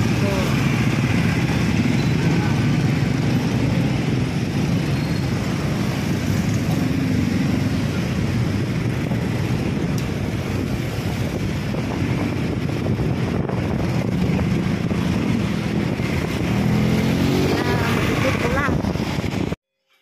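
Busy road traffic in Tasikmalaya just after rain, motorcycles and cars crawling in a jam, a steady broadband engine and tyre roar with wind buffeting the microphone throughout, no clear voices.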